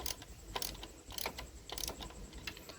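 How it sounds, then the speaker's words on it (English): Ratcheting clicks from a 10mm socket wrench loosening ignition coil bolts on a Yamaha Super Tenere motorcycle, a few short bursts of mechanical clicking at close range, quiet, with no talking. "use a 10mm socket and remove the ignition coil"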